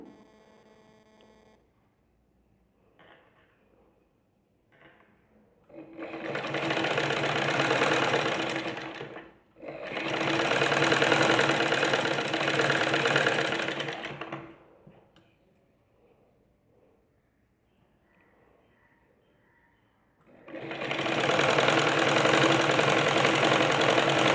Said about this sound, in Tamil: அந்த ஒரு ஃபுட் கனெக்ட் பண்ணி நீங்கள் ஸ்டிச் பண்ண வேண்டியதுதான்